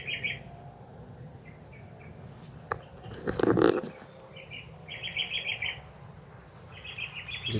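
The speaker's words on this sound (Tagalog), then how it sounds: "awit lang ng mga ibon yung narinig natin" Outdoor ambience with short bursts of high chirping birdsong repeating in clusters over a soft insect drone, plus a brief rustling thump midway.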